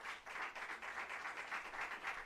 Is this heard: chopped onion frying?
no